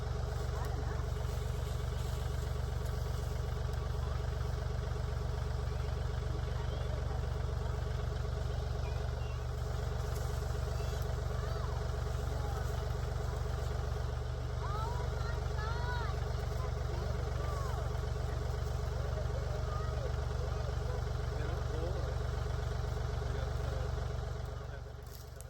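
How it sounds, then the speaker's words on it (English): A tractor engine idles steadily and loudly throughout, a constant low mechanical drone outdoors while clearing a stubborn root. "so I'm just going to use the tractor"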